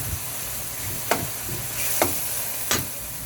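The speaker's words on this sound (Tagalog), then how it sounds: "haluin natin siya hanggang magkulay golden brown." Food sizzles steadily in a pan while being fried until golden brown, with three distinct scraping strokes of a stirring utensil spaced about a second apart, close and moderately loud, no talk.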